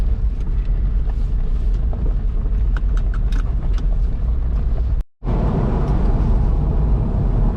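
A rebuilt Porsche Boxster's mid-mounted engine drones steadily while driving, a low rumble with wind noise, briefly cutting out for a moment before resuming.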